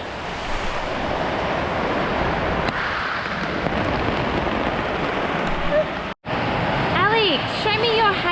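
A hail storm pours down in a dense, continuous roar that runs almost unbroken across the whole stretch, with a brief drop just past six seconds. Voices talk over it near the end.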